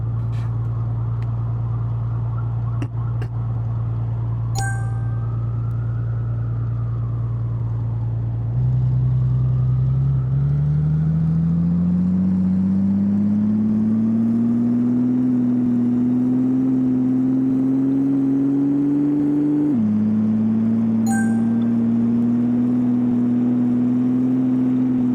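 Engine of a modest, non-performance car on a test drive in Car Mechanic Simulator Racing on Nintendo Switch: a steady low drone that climbs in pitch as it accelerates, drops back with a gear change near the end, then rises again, with no talk over it.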